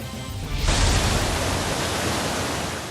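Floodwater in a river at Buldon, Maguindanao del Norte, swollen by heavy rain, surges in as a loud, dense, continuous roar that holds steady to the end, with no voices.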